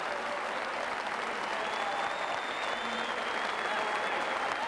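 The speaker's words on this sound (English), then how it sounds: "There was a warm welcome from the crowd" Stadium crowd at a Stoke City pre-season match at the Britannia Stadium applauding warmly, a dense, steady wash of clapping heard from within the stands.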